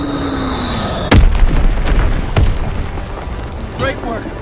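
Deep booms from an Azon bombing mission in the WWII shooter Call of Duty WWII, one sharp loud blast followed by a second softer explosion and rumbling battle noise.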